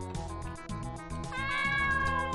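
A cat in a video game gives a short, drawn-out meow over a bed of game music and ambient sound.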